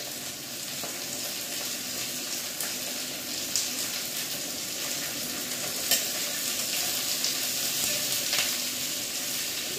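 Beans sizzle in a pan while semolina upma is cooked, a steady bright frying hiss with occasional faint clicks and stirring taps.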